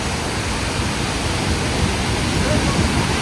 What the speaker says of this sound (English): This is Iguazu Falls